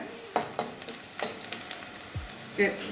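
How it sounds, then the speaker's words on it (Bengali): Chopped onion frying in ghee in a pan for lau posto, a Bengali bottle gourd and poppy seed dish; a steady close sizzle runs throughout, with scattered clicks and taps of stirring. "লাপোস্তয় শুধু পেঁয়াজটাই দিচ্ছি আর কোনো মশলা কিছু দেবো না"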